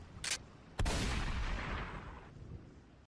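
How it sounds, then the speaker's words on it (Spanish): A sharp gunshot cracks early, then a second louder blast booms and rolls into a long decaying echo, fired into the air from a revolver. "Ceferino levantó la mano y lanzó 5 de los 6 disparos del arma al aire."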